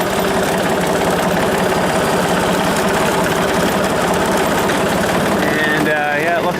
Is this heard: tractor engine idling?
yes